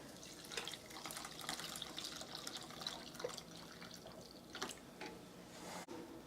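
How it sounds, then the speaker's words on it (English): Milk poured into sausage gravy in a pan, a faint, steady liquid splashing and bubbling with soft clicks, close and quiet with no talk. "Okay, we're ready to come in with the milk."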